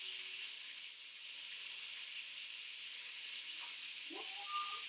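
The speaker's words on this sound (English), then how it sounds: "So you can hear the sizzle on that" Onions sizzle in a hot pan, a steady, soft broadband hiss that runs throughout with a few faint pops and clinks near the end.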